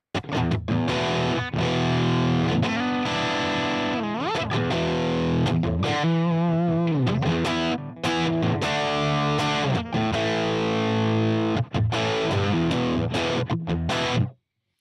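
Heavily distorted electric guitar riffs and chords through a Line 6 Helix amp modeler set for a Marshall JCM tone, without reverb, loud and continuous with brief pauses between phrases, no voices.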